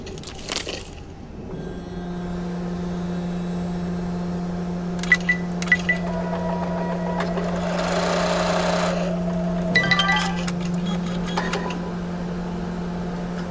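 An embroidery machine on a magnetic hoop stitches trimming and placement lines, a steady motor hum with rapid needle chatter, broken by a few sharp clicks and a brief swell in the middle.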